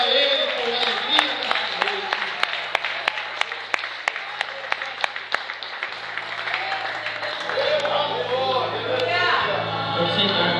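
A church congregation claps and cheers at a Portuguese-language evangelical service, with sharp individual claps under a lively crowd while a voice speaks over it.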